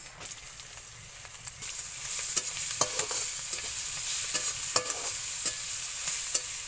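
Onion going into hot oil already spiced with cinnamon and whole garam masala, a constant close sizzle broken by repeated sharp scrapes and clinks of a spatula stirring, with no talking.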